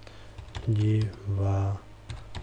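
A few soft computer keyboard clicks scattered beneath someone speaking Czech while editing a video title, quiet taps near the start and end around his voice.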